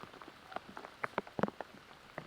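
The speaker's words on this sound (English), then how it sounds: "everything is hard when it's raining this hard" Heavy rain falls on a wooded disc golf course during a tournament round, drops spattering in irregular, close taps and small splashes over a steady, faint background hiss.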